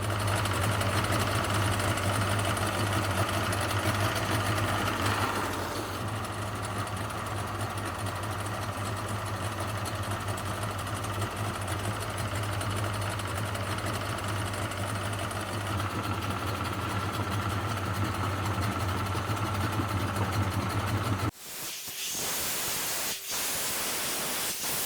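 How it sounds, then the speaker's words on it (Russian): A Yamaha 70B outboard motor runs steadily with a constant droning hum for about twenty seconds, then cuts off abruptly, leaving a few sharp clicks and knocks. "При помощи быстрого старта нам удалось запустить мотор, и вода из системы охлаждения прорывается наружу."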